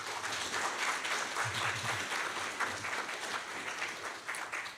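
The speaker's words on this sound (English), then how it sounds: "I would love for you to offer your applause and thanks to them as well" A church congregation at a Sunday service applauds, a steady, moderately loud wash of clapping from many people that holds through to the end.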